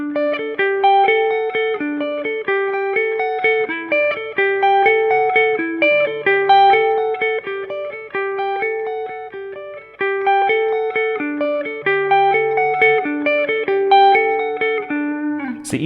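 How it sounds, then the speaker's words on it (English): A clean electric guitar plays a busy, repeating riff with ringing notes and light reverb, no distortion, and no one speaking. "it's fun just to play mega riffs with no distortion on"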